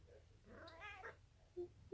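A cat lets out one drawn-out, wavering meow at low volume, followed by a couple of faint short sounds, with no talk.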